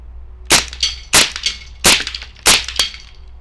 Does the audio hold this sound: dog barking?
no